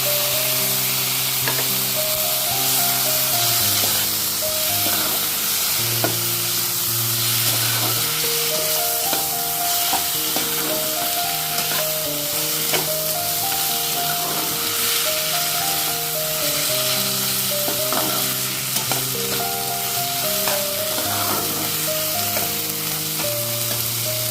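Spice paste with salt and turmeric sizzles steadily in hot oil while cooking fish head ghonto, a constant bright frying hiss with stirring, heard beneath continuous background music.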